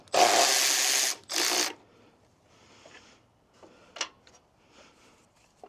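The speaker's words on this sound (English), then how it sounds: "you can use power tools" Two loud, short bursts of a whirring power tool loosening bolts on a 2025 diesel Jeep Gladiator, followed by quieter clinks and taps of metal parts being handled.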